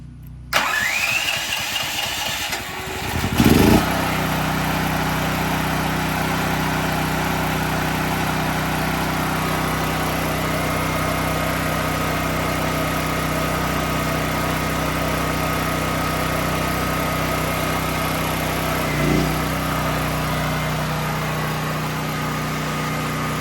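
A DuroMax XP13000HX dual fuel generator cranks, catches after a few seconds and settles into a steady, loud mid-pitched idle hum that runs alone for the rest of the stretch, with one brief surge later on.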